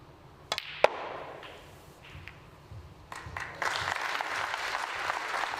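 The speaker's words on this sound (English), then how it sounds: "A round of applause" Snooker spectators at the WST Classic quarter-final applaud Mark Selby, starting as a few scattered sharp claps and swelling into a fuller ripple of polite clapping toward the end.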